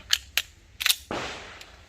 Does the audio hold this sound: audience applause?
no